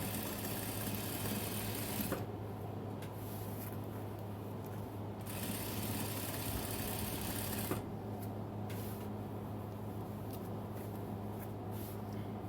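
A Singer sewing machine quilts through a quilt sandwich with a rapid, even mechanical stitching chatter. It runs steadily in close bursts, with brief pauses and restarts along the way.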